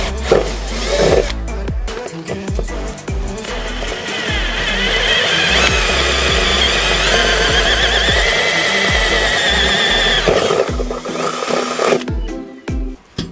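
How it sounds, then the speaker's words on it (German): Holes drilled through a DIY VW van's body with 3 mm then 8 mm bits while fitting a Truma Combi D6E diesel heater, a loud close whining power drill running steadily for several seconds between clicks and handling knocks. "ich bohre immer zweimal vor. Ich nehme mal einmal 3 mm und dann nochmal 8 mm."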